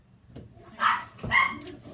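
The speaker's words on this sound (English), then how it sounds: "My dogs are so yappy." Small dogs bark in a kitchen, two sharp yappy barks about half a second apart, fairly close and loud, with faint whimpers before and after.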